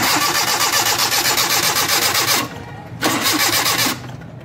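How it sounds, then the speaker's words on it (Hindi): A Suzuki Mehran car engine cranks without catching, a loud steady rhythmic churn of the starter that pauses briefly, resumes for about a second, then drops away. "करते हैं स्टार्ट, अब ये स्टार्ट नहीं हो रही"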